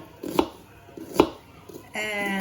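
Green onions being chopped on a board, two sharp knife thuds spaced apart with softer taps between, then a brief tonal clatter at the end, close and fairly loud.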